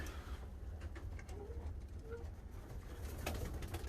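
Pigeons coo softly in a bird loft, with low murmuring calls over a quiet rumbling background.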